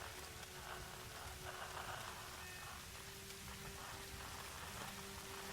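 Steady rain patters evenly on surfaces in the Tomb Raider video game, a soft continuous hiss with no other sounds over it.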